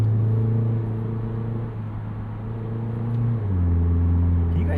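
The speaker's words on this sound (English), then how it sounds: "we're going to do some manual shifting for a second" A 2008 Mitsubishi Eclipse Spyder convertible's engine droning steadily in the cabin during manual shifting, the hum dipping and shifting pitch at a gear change near the end, with light road rumble underneath.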